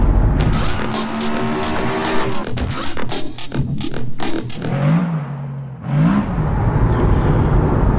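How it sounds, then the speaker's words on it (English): A Hyundai Ioniq electric car on the move gives steady broadband road and cabin noise, with a faint whine that rises and falls near the end; no one speaks. "we'll drive the car for a little bit and then we'll report back."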